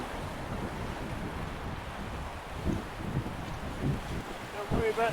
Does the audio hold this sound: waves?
yes